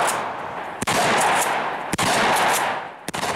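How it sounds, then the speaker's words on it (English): Automatic gunfire from a weapon with brass casings ejecting, a dense continuous roar broken by three sharp cracks at regular intervals, loud and close with no talking. "Being able to stand back and observe brass ejecting from the weapon"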